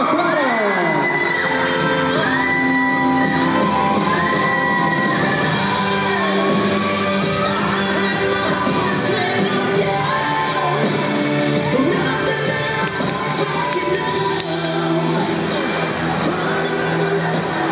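A pageant audience cheers, whoops and shouts for a child contestant, a loud, dense crowd roar that runs without pause and is layered with music.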